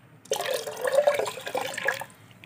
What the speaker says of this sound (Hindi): इसमें हम थोड़ा पानी डाल देते हैं